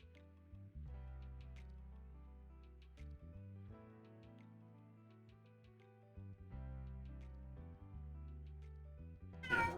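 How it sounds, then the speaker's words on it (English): A pet cat meows insistently at her owner, a run of drawn-out, harmonic cries rising and falling over about ten seconds, close and fairly loud, ending in a sharper squeal. "I don't know why my cat is yelling at me."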